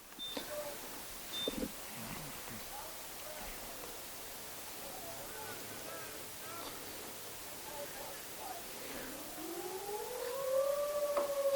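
A civil defense siren wails during a high school baseball game between Decorah and Waterloo East, rising and falling and swelling louder toward the end, heard over faint crowd ambience.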